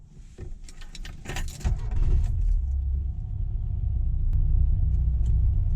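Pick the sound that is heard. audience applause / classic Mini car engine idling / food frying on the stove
classic Mini car engine idling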